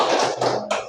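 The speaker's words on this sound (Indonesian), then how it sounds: "Tepuk tangan lagi sekali." A class of students clapping their hands in a school classroom, a short burst of dense applause that stops after under a second, close and fairly loud.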